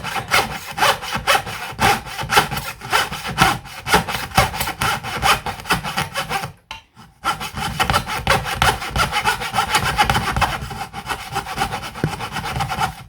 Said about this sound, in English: This is a 38 tooth blade, a jeweler's blade really.